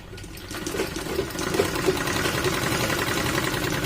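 A sewing machine runs continuously at close range, stitching the side seam of an umbrella dress with a steady, fast mechanical whir that builds slightly and then holds even.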